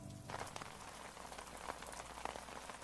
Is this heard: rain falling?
yes